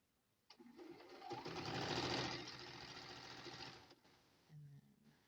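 A sewing machine stitches a pink fabric strip to a white strip for Amish squares, a steady close whir lasting several seconds before stopping, with brief handling noise after.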